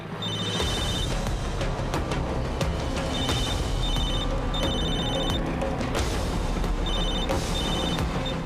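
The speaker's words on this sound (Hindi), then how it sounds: "कोई फोन क्यों नहीं उठा रहा है?" A telephone rings in repeated bursts of bright trilling tones, evenly spaced over a loud, dense background of music or noise.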